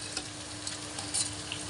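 Onion, garlic, ginger and green chili pastes fry in a pan with a soft, steady sizzle and faint light stirring ticks over a short stretch.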